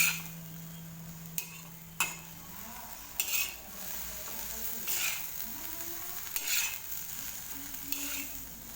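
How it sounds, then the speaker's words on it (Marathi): Ghol (purslane) greens are stir-fried on an iron griddle, a faint steady sizzle broken by repeated scraping strokes of a spatula against the metal. "चवीनुसार मीठ टाकायचं आणि परत छान परतून घ्यायची"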